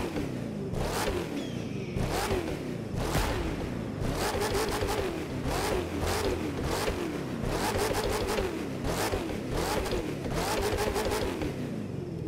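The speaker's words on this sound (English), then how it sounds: "I want to rev up this V8 and hear how it sounds." A TVR Griffith V8 in the video game The Crew 2 revs repeatedly, each throttle blip rising and falling in a steady rhythm of loud, close engine bursts with popping between them.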